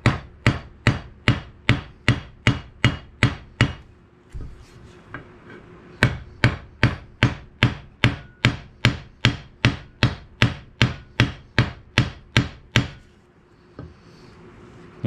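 Sharp, regular hammer strikes on a pin in a meat cleaver's handle ring out in a fast steady rhythm, pause briefly, then resume in another long run of evenly spaced blows.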